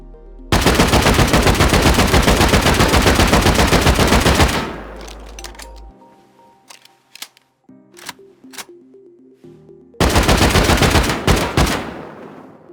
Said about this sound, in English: It's always good to use this AK.